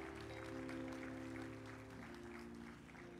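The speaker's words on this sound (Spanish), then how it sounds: "Denle un aplauso al Señor por ellos." A church congregation claps in sustained applause during a worship service, a dense steady patter over a held organ or keyboard chord, with cheering mixed in.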